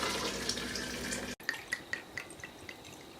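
Strained chicken broth pours into a soup pot in a home kitchen, a soft liquid splash that gives way to a series of distinct drips, quiet and close.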